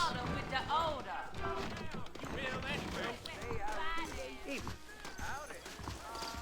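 Horse hooves clip-clop at a walking pace in Red Dead Redemption beneath steady talking and game music, with a brief whinny.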